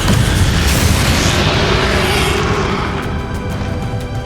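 Bombarda explosion spell in Hogwarts Legacy, a loud booming blast that fills the opening moments and then decays slowly into a rumbling tail.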